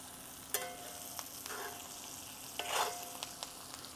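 Steaks sear and are basted in a hot skillet, a faint steady sizzle with occasional clinks and a brief louder burst of spattering.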